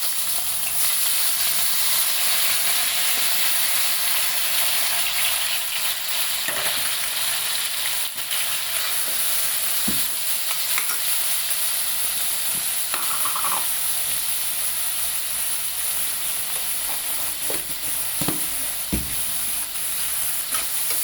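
Onions, tomatoes and green chillies sizzle steadily in a hot pan for an onion, tomato and potato curry. The loud frying hiss is constant, broken only by a few faint clicks and taps from stirring. No one speaks.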